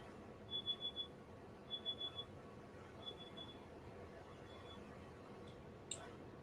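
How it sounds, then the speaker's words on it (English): Faint high-pitched electronic beeps in short bursts of three or four, repeating at intervals over a quiet room hum, followed by a brief click. "Now it's beeping."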